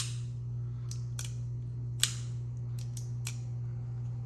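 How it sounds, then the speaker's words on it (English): A folding knife opens with a few sharp mechanical clicks, one noticeably louder with a dull thud, over a steady low electrical hum. "when you open it, it has a dulled kind of thud sound."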